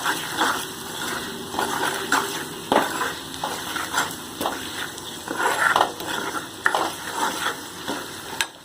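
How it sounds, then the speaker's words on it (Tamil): Garlic rice is stirred in a hot pan, with a spoon scraping and turning the grains in irregular strokes over a continuous sizzle, close and fairly loud. "இது நல்லா வந்து கிண்டி விடுங்க."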